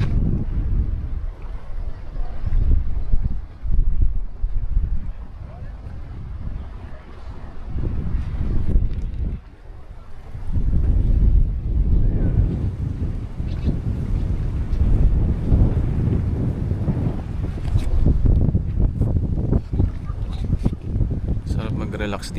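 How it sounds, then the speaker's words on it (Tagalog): Cool wind gusts steadily across the microphone outdoors on a sunny day near water, a loud continuous buffeting rumble that swells and eases in gusts. "Medyo malamig lang yung hangin kahit tirik yung araw."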